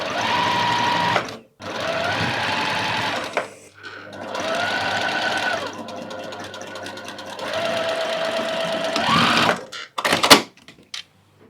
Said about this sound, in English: let's sew our hem and lining together with a 1 centimeter seam allowance